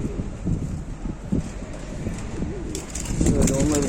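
Pigeons coo repeatedly nearby in low, throaty bursts, with wind buffeting the microphone and a voice joining toward the end.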